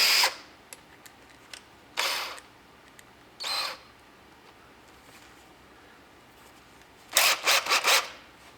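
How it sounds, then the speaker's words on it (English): Several short, high-pitched bursts of a power drill boring pilot holes in a classic Mustang's metal body panel, each under a second, with quiet pauses between and a quick cluster of four near the end. "you have to drill a pilot hole beforehand before you do your spot weld cutter"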